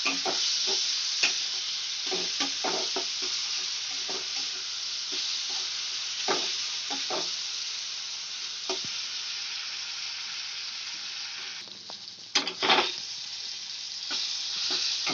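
Tomatoes with turmeric cook in a pan over a low-to-medium gas flame, giving a continuous soft sizzle broken by repeated spoon clicks and stirring scrapes.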